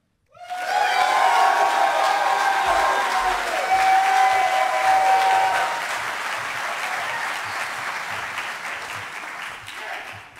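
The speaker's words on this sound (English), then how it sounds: "this is a perfect time for you to applaud for not only your candidate, but all the candidates" A crowd at a Connecticut Republican governor debate bursts into loud, sustained applause with some cheering, holding strong for several seconds before easing slightly.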